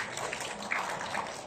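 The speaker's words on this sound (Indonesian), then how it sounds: "Boleh kita berikan tepuk tangan Bapak Ibu?" Indoor audience at a cloud security event clapping together in a short, dense burst of applause, moderately loud and steady throughout, with no voices over it.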